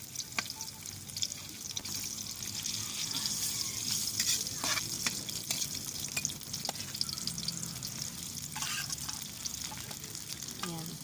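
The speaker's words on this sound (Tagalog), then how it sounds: "Pagkatapos pong igisa yung bawang at saka sibuyas, isusunod naman po yung tinapa na hinimay-himay." Flaked smoked fish (tinapa) with its head sautéed with garlic and onion in a pan, giving a steady close sizzle and fry with occasional stirring scrapes and clinks throughout.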